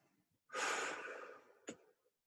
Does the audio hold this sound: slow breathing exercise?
yes